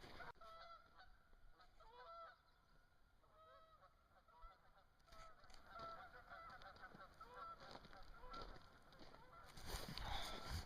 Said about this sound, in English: couple of geese flying overhead there